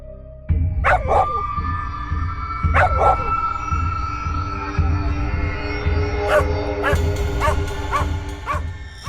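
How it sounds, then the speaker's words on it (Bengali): A dog barks in scattered bursts, a few sharp yelps at first and then a quicker run of barks, over a steady low hum. "এই কুকুরটা তোকে দেখে এমন ঘেউ ঘেউ করছে কেন"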